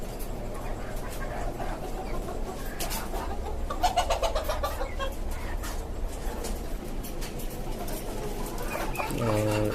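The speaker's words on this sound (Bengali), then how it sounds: "একটা মোরগ এবং তিনটা দেশি মুরগিকে একসাথে রাখা হয়েছে" A rooster and three desi hens kept together in a rooftop poultry farm cluck faintly and intermittently under steady background noise and a voice.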